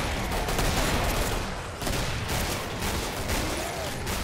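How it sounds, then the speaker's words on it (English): Dense, continuous gunfire fills a space-base level in the co-op shooter Killing Floor, a loud unbroken barrage of rapid shots with no pauses. "I think what all this gunfire is doing to the superstructure of this space base."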